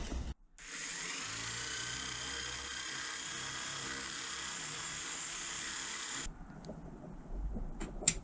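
A power drill bores a hole in a Honda Bros (Hawk GT) motorcycle, whining steadily and loudly for several seconds before stopping abruptly, followed by a few light clinks.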